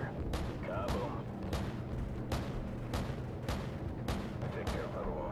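AC-130 gunship cannon fire in the video game Call of Duty 4: Modern Warfare, a series of about eight sharp, evenly paced heavy shots over a steady droning engine rumble.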